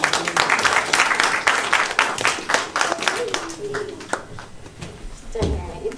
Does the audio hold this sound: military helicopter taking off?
no